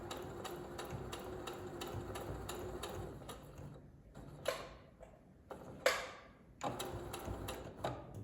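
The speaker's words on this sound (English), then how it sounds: "so you can sew those two together" A sewing machine runs in rapid steady bursts while stitching slippery fabric, its fast mechanical ticking loud and close, stopping and restarting with a few sharper knocks in the pauses.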